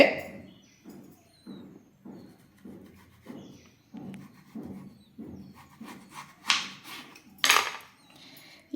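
A knife cuts peeled potatoes lengthwise on a board with a steady series of short, soft chopping strokes, each about half a second apart, and a couple of sharper clacks near the end.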